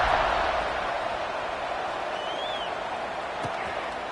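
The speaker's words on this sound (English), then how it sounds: "this crowd is buzzing after that last score" A football stadium crowd buzzes after a score in an LSU at Florida game, a broad sustained roar that fades slightly, with a brief whistle-like tone and a sharp thump partway through.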